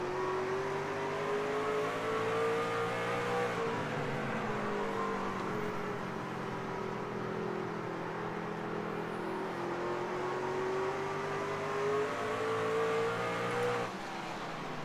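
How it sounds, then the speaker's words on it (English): A racing truck engine heard on board at Myrtle Beach Speedway drones loud and close, its pitch swelling and easing with the throttle through the corners in a steady rhythm. "You can even hear it too in that throttle rhythm."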